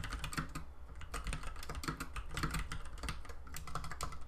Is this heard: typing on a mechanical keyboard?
yes